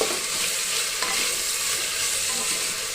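Sliced okra frying in hot oil in a pan, a loud, close, continuous sizzle with scraping stirring strokes throughout, no voices.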